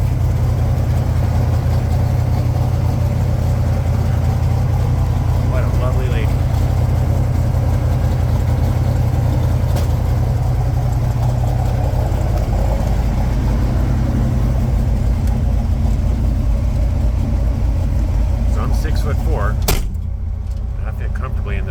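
A 1967 Mustang GT 500 tribute car idles steadily with a deep, loud low rumble throughout, a few small clicks and thumps over it, then the engine cuts off abruptly near the end.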